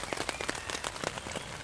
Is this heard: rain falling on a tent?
yes